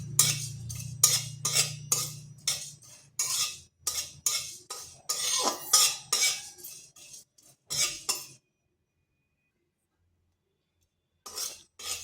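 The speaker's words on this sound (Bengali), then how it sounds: "শুকনো কড়াইতে 5 ফোড়নটা একটু ভেজে নিচ্ছি।" Panch phoron spices dry-roast in a hot, dry wok, with rhythmic scraping and rattling strokes of a spatula against the metal, then a pause and a few more scrapes.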